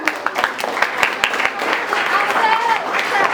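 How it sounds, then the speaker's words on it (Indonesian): Students clap together in a school orientation classroom, a dense burst of handclaps with a few sharp individual claps standing out, steady and close, with faint background voices mixed in. "Oke, tepuk tangan buat Axel ya."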